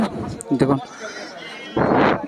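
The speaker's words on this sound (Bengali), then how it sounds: "এগুলো হরিয়ানা জাতের ছাগল" Haryana breed goats bleat in short wavering cries at a livestock market amid voices talking nearby, with a louder bleat near the end.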